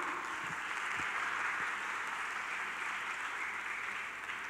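An audience applauds steadily at an Islamic boarding-school students' gathering in Indonesia, a dense, continuous patter of clapping held at even loudness throughout with no talk over it.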